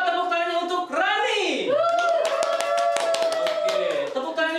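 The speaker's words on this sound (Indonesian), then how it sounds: "Coba tepuk tangannya untuk Rani." Seminar audience clapping for a participant, sharp claps in a steady run, with a voice talking and laughing over them near the microphone.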